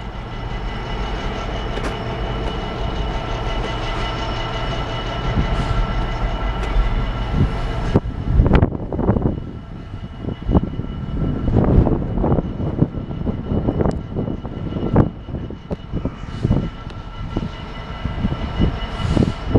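Class 67 diesel locomotive running onto the loop at Banbury, a steady loud engine drone and rumble that drops after about eight seconds into heavier, uneven clattering and rumbling with no voices.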